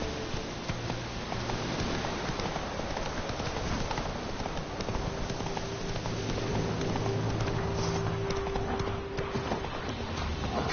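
Hooves of Roach, the horse in The Witcher 3: Wild Hunt, pound in a steady rapid gallop through the whole stretch, loud and continuous, with dense game ambience and a faint hum running underneath.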